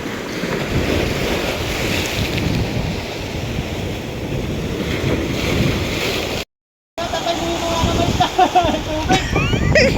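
Steady roar of ocean surf with wind buffeting the microphone, broken by a brief dropout; voices chatter faintly over the waves.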